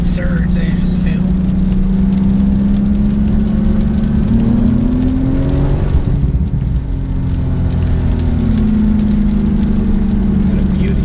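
A 2015 Porsche 911 Turbo S engine pulls hard on a wet road, its loud rising drone swelling, easing briefly mid-clip, then building again, steady and close throughout.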